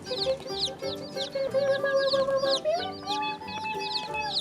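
Several farm chickens cluck and chirp close by, short repeated calls overlapping in a busy, steady chorus.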